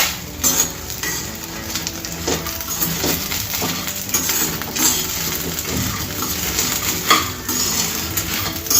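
Gobi 65, fried cauliflower with garlic and curry leaves, is tossed in a pan, making a steady sizzle of frying under repeated scraping and clattering of the pan and utensil.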